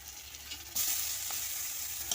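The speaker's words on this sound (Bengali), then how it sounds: "ভালো করে কষিয়ে নেব মশলাটা" A spice paste with green chilies, dried red chilies and tomato fries in a pan. The sizzle starts quietly, then jumps louder and stays a steady hiss, with a faint clink near the end.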